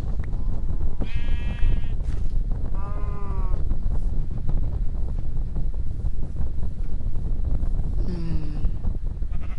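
Sheep bleat in the Minecraft 1.5.2 video game, with a few short wavering bleats spread across the stretch over a steady windy, noisy background and no talk.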